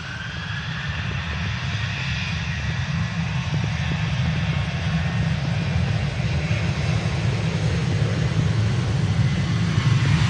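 Boeing 737 jet engine at Manchester Airport, a steady loud broadband roar with strong low rumble that holds constant throughout, with no voices.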